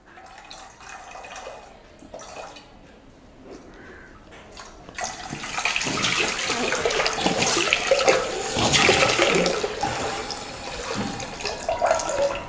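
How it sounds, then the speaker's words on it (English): Water pours out of a bottle into a vessel during a home science experiment, a soft trickle that swells into a loud, steady gushing splash for the second half, with no voices. "So now I am going to pour the water into the vessel."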